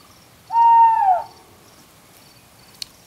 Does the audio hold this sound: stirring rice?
no